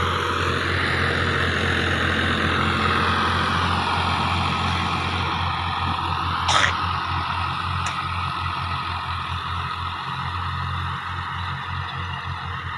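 A 2022 Fiat tractor engine labours in a tractor pulling competition, a steady loud low drone with constant pitch throughout, a brief sharp crack partway through, and no voices.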